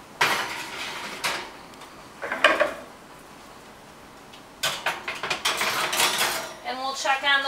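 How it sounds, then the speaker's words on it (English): A metal cupcake pan is slid into a hot oven at 350 degrees, with scattered clanks and scrapes of metal on the oven rack and a door thud among short bursts of handling noise. "So now I'm going to stick these in the oven at 350 degrees."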